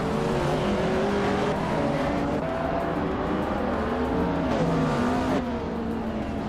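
A 2003 Ferrari 575 M Maranello's engine drones steadily in a racing video game, a loud continuous roar with shifting pitch as the car pulls away from the line, alone without talk.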